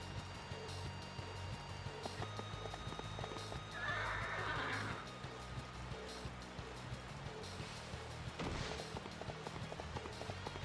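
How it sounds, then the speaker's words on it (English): A horse gallops with quick, steady clip-clop hoofbeats across a broken bridge in a Three Kingdoms battle scene, with a loud whinny partway through and a busy, echoing background. "After Sun Quan managed to escape by making his horse jump across the broken bridge and reach the other side, Ling Tong returned to the battlefield"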